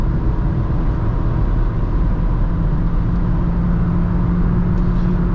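A Hyundai i20 with a 1.4 MPI engine and automatic gearbox accelerates at full throttle, giving a steady loud engine drone with road and cabin noise throughout, no talking.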